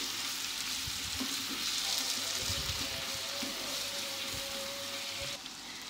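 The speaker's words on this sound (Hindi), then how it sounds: "थोड़ी सी देर इन तमाम मसालों को प्याज के साथ हम भूनेंगे।" Onions and spices frying together in a pan for bhindi masala, a dense continuous sizzle with occasional stirring scrapes, close and steady throughout.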